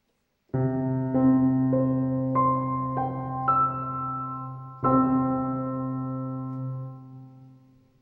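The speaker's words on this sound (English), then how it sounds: "all of those notes are being played simultaneously when the organist simply plays middle C with that registration pulled" A sustained pipe organ chord swells as stops are added one after another, building a rich, layered tone that holds and then fades out.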